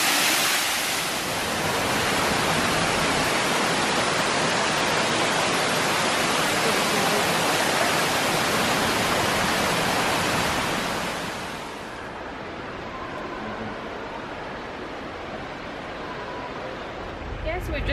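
A man-made waterfall in the Eden Project rainforest dome roars as a loud, steady rush of falling water that drops to a softer level partway through as the listener moves away.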